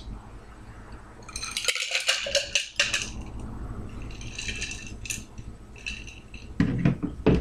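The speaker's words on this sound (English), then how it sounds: "Dump out our ice." Ice cubes dumped out of a chilled coupe glass, a loud, rattling burst of clinks and clatter against glass, followed by scattered knocks and a final jangle.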